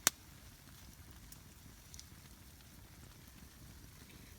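Freezing rain falls steadily around a campfire, a soft continuous patter heard close by at low volume, opening with one sharp crack or tap and a few faint ticks later on.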